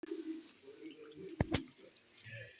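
Water pours and splashes in a kitchen as rice is rinsed a second time, with a faint steady trickle and two short, sharp splashes midway, quiet and close.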